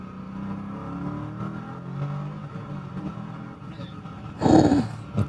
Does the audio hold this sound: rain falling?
no